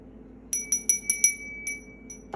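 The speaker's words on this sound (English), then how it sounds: "I forgot to ring the bell." A small bell struck five times in quick succession, then twice more with longer gaps, each a clear high ring that briefly sustains, close and alone in a quiet room.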